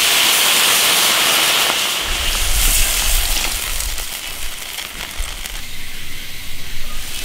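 Water splashed into a hot iron wok of stir-fried cured pork lung, bursting into a loud, dense sizzle and hiss that eases slightly as steam rises, with a low bubbling rumble underneath.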